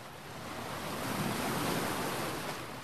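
Rough sea off volcanic Italian islands, whipped up by wind blowing at 40 knots: a continuous hissing wash of breaking waves mixed with gusty wind rush, swelling slightly in the middle, with no voices.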